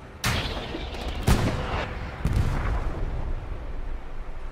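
Gunfire and artillery blasts in a tank battle video game: three sharp, loud reports roughly a second apart, each trailing into a rumbling battlefield wash with no talk.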